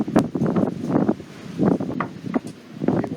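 Gusty wind buffets a stonecutter's hut in uneven surges, with rough microphone rumble and brief rustling between the gusts; no one speaks.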